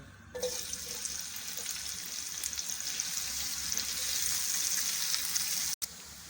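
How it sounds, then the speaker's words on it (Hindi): Onions fry in hot oil in a pan with a continuous, even sizzle heard fairly close but at low volume. The sizzle runs steadily with no talk and cuts out briefly near the end. "सबसे पहले पैन में हमने ऑयल डालकर इसको गर्म कर लिया है। इसमें प्याज डाल लेंगे।"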